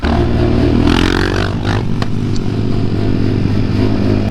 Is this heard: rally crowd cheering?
no